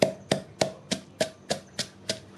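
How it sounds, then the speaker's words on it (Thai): Eight sharp, evenly spaced thuds of a pestle pounding chopped lemongrass fine in a mortar, steady rhythm, close and fairly loud, no voices. "หั่นตะไคร้เสร็จแล้วเราก็จะโขกให้ละเอียดเลยนะคะ"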